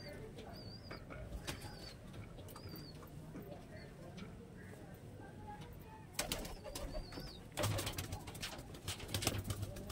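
High-flying pigeons coo softly amid steady background noise, with brief flutters and louder bursts of activity toward the end.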